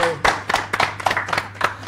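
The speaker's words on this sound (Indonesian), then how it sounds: "Oke, tepuk tangan dong bro." Scattered hand claps from a small audience after a business talk, a handful of sharp separate claps spread over a couple of seconds rather than full applause, with a steady low hum underneath.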